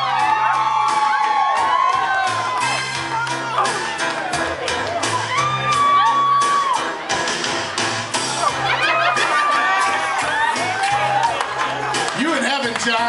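A crowd cheers, whoops and laughs loudly and continuously at a garter dance event, with shouts and excited voices blending throughout.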